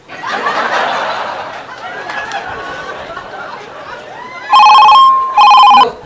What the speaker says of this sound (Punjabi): ਇਹਨਾਂ ਦਾ ਫੋਨ ਵੀ ਆ ਗਏ